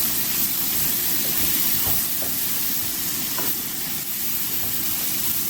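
Bacon, onions and mushrooms sizzle steadily in a hot pan on a burger recipe stovetop, a loud continuous hissing fry with a few faint clicks and no talking.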